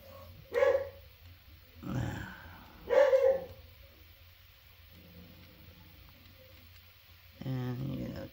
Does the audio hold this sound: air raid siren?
no